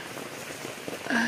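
Heavy rain pours steadily on a small farm plot, a dense, even hiss throughout, with a brief tonal sound rising near the end.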